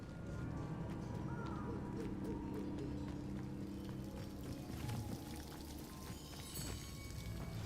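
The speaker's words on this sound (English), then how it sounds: "The waterfall." A waterfall in the video game Hogwarts Legacy rushes steadily, a dense, even roar of falling water that holds at a constant level throughout with no talk.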